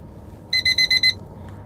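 Alarm clock ringing in five quick, evenly spaced electronic beeps, loud and close, followed by quiet.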